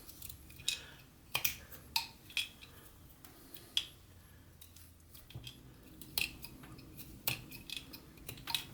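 A utility knife whittles a small wooden mushroom, the blade making sharp, close, irregular snicks and scrapes against the wood with quiet gaps between cuts.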